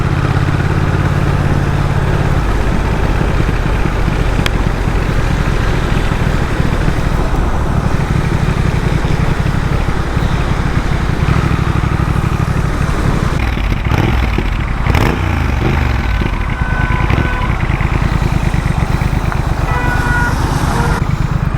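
A Triumph Speed Twin 1200cc twin-exhaust motorcycle being ridden, its engine a steady, continuous drone with a low rumble that holds throughout and shifts slightly partway through.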